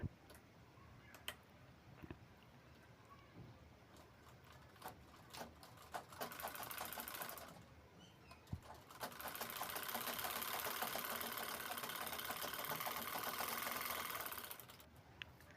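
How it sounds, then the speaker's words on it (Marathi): A sewing machine topstitches a bag, running in a quiet, steady rapid ticking that builds to a longer continuous stretch of stitching near the end, with no voices. "त्यानंतर दापटीप घ्यायची आहे ह्याच्यावर"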